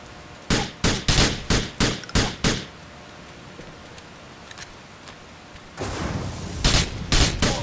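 Gunfire in GTA 4 during a snowstorm mission: a rapid string of loud shots in two bursts, about seven sharp cracks at first, then a pause with faint ambience, then another dense volley near the end.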